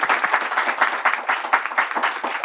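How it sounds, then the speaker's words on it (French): A studio audience on a talk show claps loudly for guest Fodé Kanouté, a close, dense burst of fast clapping that carries through without pause. "On applaudit très très fort pour Fodé."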